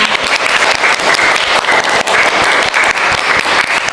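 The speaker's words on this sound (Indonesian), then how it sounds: "Beri aplaus untuk kita semuanya" An audience claps at the end of a nursing lecture on community health, a dense, steady round of applause that holds at full volume for the whole stretch.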